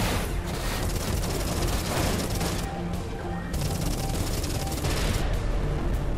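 Auto cannon fire in the space combat game Everspace 2 rattles in fast, sustained bursts with short gaps, loud and dense over booming impacts and game noise.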